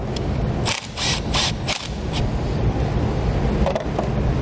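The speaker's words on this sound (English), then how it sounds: "Then we'll remove that nut." A hand tool loosens the nut on the positive battery terminal of a 2019 Chevrolet while a trailer brake controller is fitted. A few quick mechanical clicks come through over steady, loud background noise.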